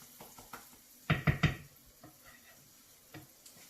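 Risotto rice stirred in a frying pan, a few close spoon scrapes and knocks against the pan in a quick burst, then quieter faint sizzling and stirring.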